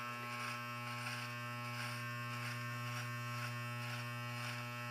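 Electric hair clippers scraping along a hairline above the ears, a steady close buzzing hum that holds for the whole stretch with slight rhythmic variation as the blade passes, with no talking.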